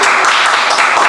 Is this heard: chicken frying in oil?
no